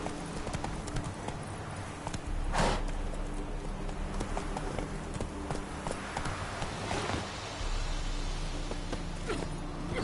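Roach, a horse in the video game Witcher 3, gallops with a quick, steady run of clip-clopping hoofbeats at moderate volume, with a few sharper thuds along the way.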